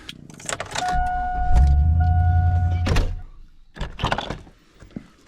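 An engine start on a big Chevrolet car at a motorsports park open house: a whirring starter cranks for a couple of seconds, the engine catches and rumbles loudly, then settles. A few clunks follow, close by.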